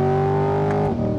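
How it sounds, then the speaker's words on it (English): A 2020 Chevrolet Corvette engine drones loud and steady, then its dual-clutch gearbox snaps through a quick shift and the engine note drops sharply near the end. "That dual clutch shifts so quickly."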